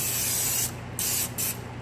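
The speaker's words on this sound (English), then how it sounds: "Then you need your baking sheet or your Pyrex dish or your anchor dish, whatever you're going to be using. Make sure you spray it though." Cooking spray hisses onto a baking sheet or glass baking dish in three bursts, one long spray followed by two shorter ones, close and loud with no talking.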